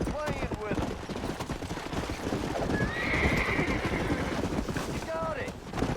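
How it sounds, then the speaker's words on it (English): Horses in the Red Dead Redemption video game whinny in sharp, rising calls at the start and again near the end, with hooves clip-clopping steadily throughout amid game ambience and a voice talking. "Mas aquilo são cavalos?"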